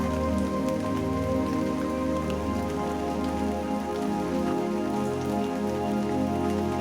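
Steady rain falls across a surface in a continuous, even wash of patter, close and unbroken from start to finish, with no voices.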